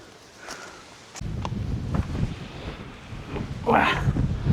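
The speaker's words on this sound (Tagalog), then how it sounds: "Wah, grabing hangin yan." Strong wind buffets the microphone outdoors at a house construction site, rough low-pitched gusting that jumps up after a second and surges in uneven bursts, with a few faint knocks in the background.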